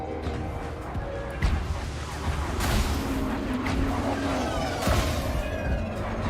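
Missiles fire at a Thargoid in the space combat game Elite Dangerous. The sound is a dense, loud rumble of launches and impacts with sharp bursts spread through it.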